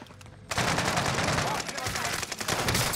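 Rapid bursts of Mac 10 submachine gun fire from the Call of Duty Warzone video game start abruptly and rattle on loudly, with voices talking underneath.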